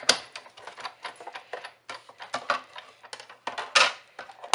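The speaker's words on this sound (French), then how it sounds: "on vient découper le bord avec son Framélite" A Framelits metal die cutting the edge of a card for a Christmas card, heard as a rapid run of close, dry clicks and crisp crunching taps in irregular bursts.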